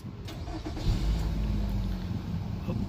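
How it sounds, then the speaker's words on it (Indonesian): A 2015 Nissan X-Trail 2.5 with XTronic CVT starts by keyless push-button, its engine catching with a brief low surge and then settling into a soft, steady idle, heard alone at moderate distance. "tekan salah satu button ini untuk menyalakan mesinnya"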